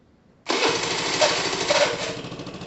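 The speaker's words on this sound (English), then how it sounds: "It's a good sounding engine, that." After a brief quiet moment, a Piaggio Typhoon 125cc scooter engine starts up and runs steadily at a loud, buzzy idle close by.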